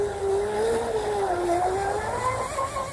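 A 19-inch Water Bobber hybrid RC tri-hull boat with a 4000kv motor runs on the water, giving a steady, loud high-pitched electric whine that rises and dips in pitch as the throttle shifts, heard alone without voices.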